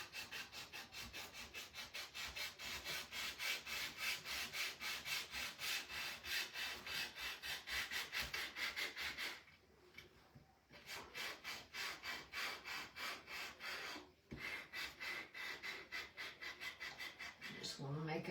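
Wood is sanded by hand, with close, quiet, rhythmic rasping strokes back and forth that continue steadily, apart from two short pauses.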